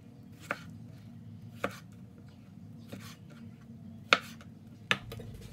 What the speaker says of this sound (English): We will quarter the tomatoes.